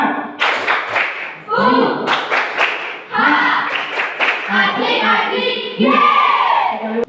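A classroom of students performs a rhythmic spirit clap, bursts of loud clapping mixed with chanting, shouting voices, close and energetic throughout.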